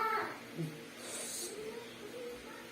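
A pet cat gives a short meow near the start, followed by softer vocal sounds and a faint hiss, close and fairly quiet against low room noise.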